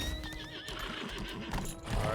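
A horse neighs in the video game Lost Ark, a wavering whinny over clip-clop hoofbeats and game ambience, close and clear, with no talk.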